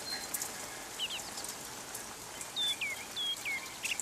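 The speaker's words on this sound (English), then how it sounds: "That's my song thrush." A song thrush sings outdoors with a run of clear, piping whistles and short repeated phrases, the sharper notes clustering in the second half against a soft, rain-like background hiss.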